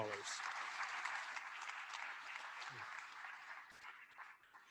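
Sustained applause fills a Billings Chamber of Commerce annual meeting hall in Montana, a steady wash of many hands clapping that gradually thins toward the end, with faint voices mixed in.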